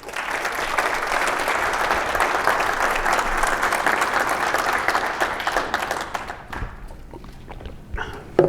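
A conference audience at an education summit and annual meeting breaks into sustained, dense applause that holds steady for several seconds, then tapers off into scattered claps, shuffling and a few faint voices.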